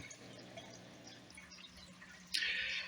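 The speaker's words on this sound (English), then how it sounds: "here comes the water from the aquarium" Water from an old, once-broken aquarium sump filter trickles and drips softly and steadily, then a brighter splash of falling water rises near the end, with no voices.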